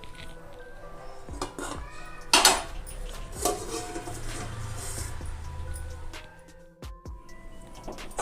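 A metal lid set over a bowl of milk-brushed eggless bun dough, a sharp clink near the start amid soft kitchen clatter and handling sounds.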